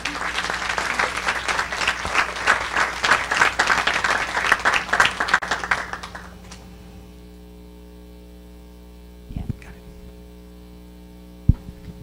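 Loud audience applause for about six seconds at a school district performance scores event, then it stops abruptly, leaving a low electrical hum with a couple of faint thumps.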